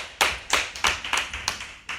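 A small group claps in slow, even unison, about seven distinct claps in two seconds, close and fairly quiet with no talk.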